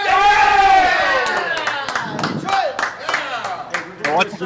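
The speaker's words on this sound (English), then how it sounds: "these players are watching a baseball game, and that's the cheering that you're hearing" Crowd cheering and clapping from a televised baseball game plays in the background of a $1/$3 no-limit hold'em poker room, a continuous roar with scattered claps and whoops mixed with voices.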